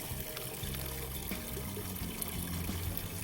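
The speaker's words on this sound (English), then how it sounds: "we've got a lovely little water feature up the corner." Water trickles steadily from a small garden water feature, a continuous close, soft pouring and dribbling with no talking over it.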